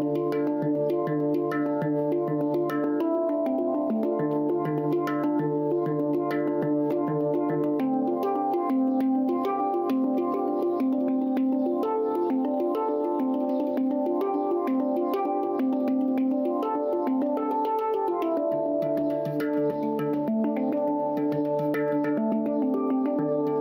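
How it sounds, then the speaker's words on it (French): Hang drum, also called a pantam, played as a melodic instrument with steady ringing metallic tones and overlapping sustained notes, close and continuous with no talking. "Pantam en hébreu et hang drum en suisse."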